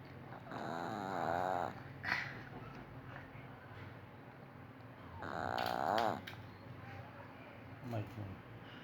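Dog snoring loudly nearby in two long, drawn-out rasping breaths with quieter breathing between them, while people talk in the background.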